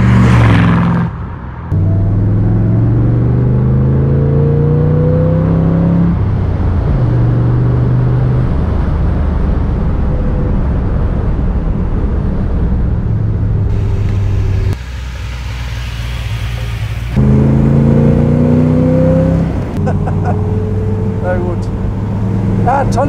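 A 1966 Iso Grifo 300 GL sports car with a 350 hp engine drives along, its steady engine rumble shifting pitch as it runs through gears, with someone talking over it most of the time.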